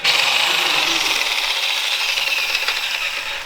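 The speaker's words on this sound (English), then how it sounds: "So we're about to sawzall off the header right there" A reciprocating saw cuts through the exhaust header of a 1938 Plymouth, a loud, close, rattling buzz that drones on without a break for several seconds.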